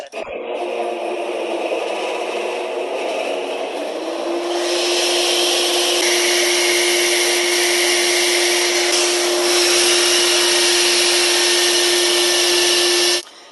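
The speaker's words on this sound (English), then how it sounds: "So we turn the vacuum on." A vacuum dust collector attached to a power sander on a turned bowl roars steadily and loudly, its pitch rising slightly partway through, then cuts off abruptly at the end.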